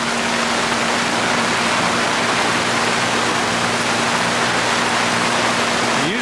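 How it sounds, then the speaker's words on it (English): Heavy rain pours on a sailboat on Lake Ontario, a dense, even roar of water that is loud and constant throughout, with a faint steady hum beneath it. "Oh, listen to that, eh? Coming down in buckets."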